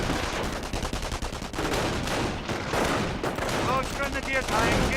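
Rapid bursts of gunfire and heavy shooting fill a video game battle in a 1 vs 1 Valor tournament match, dense and continuous throughout, with a commentator's voice running over the fire.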